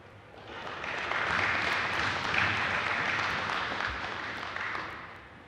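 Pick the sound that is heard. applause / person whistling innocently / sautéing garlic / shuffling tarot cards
applause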